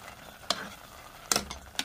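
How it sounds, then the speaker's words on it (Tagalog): Homemade ube jam cooks at a boil and is stirred, giving three distinct scraping or sloshing strokes spread over about two seconds against a quiet background. "Kumukulo na yung ating ubi."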